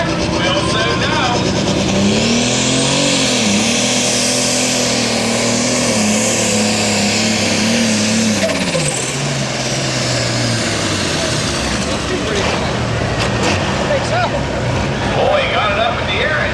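A John Deere tractor engine roars loud and steady at a truck and tractor pull, its pitch climbing then holding high before easing off, with crowd noise and an announcer's voice over the top.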